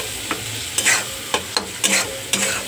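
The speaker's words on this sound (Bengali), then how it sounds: "দেখো এইভাবে একটু নাড়তে নাড়তে ভালো করে।" Spiced tadka being stirred in a hot pan, a spoon scraping in regular strokes over a soft continuous sizzle of frying oil, close and fairly quiet with no talking.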